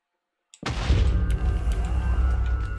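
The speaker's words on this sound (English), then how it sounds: "That was a bigger explosion than I thought it would be" A Minecraft explosion bursts suddenly out of silence, then trails into a loud, sustained low rumble that fills the rest of the moment.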